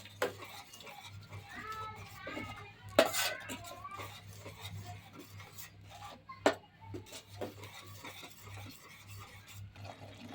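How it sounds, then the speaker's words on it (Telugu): Spinach and paneer are stirred in a pan for palak paneer with soft, repeated scraping and rubbing strokes of a spoon, and a couple of sharper clinks against the metal. A low steady hum runs underneath. "బాగా కలుపుదాం."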